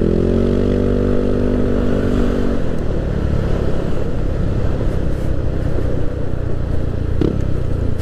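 A Yamaha Aerox scooter bored up to 200cc is ridden, its engine first humming with a steady pitched tone, then giving way to a rougher, louder broadband roar of motor and wind that continues unbroken.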